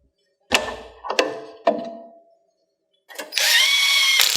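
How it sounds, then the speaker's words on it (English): A power tool tightens the last bolt on a hydraulic open center valve kit for a Schulte High Rise rock picker: three short sharp bursts, then a longer sustained whirring run, close and loud with no talk. "the one final remaining bolt is right here. We just have to tighten that down."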